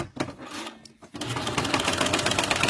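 A sewing machine stitches the shoulder seam of a one-shoulder top, starting with a few short bursts and then running in a fast, steady, rapid-fire rattle at close range.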